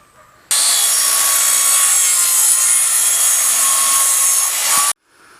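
A hand saw cuts through a wooden roof board in one loud, continuous run of close, raspy strokes lasting about four seconds, stopping abruptly into near silence.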